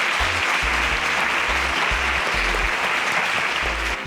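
An audience at the InterswitchSPAK Nigeria competition show breaks into loud, sustained applause, an unbroken, even clapping texture over a low background rumble for about four seconds.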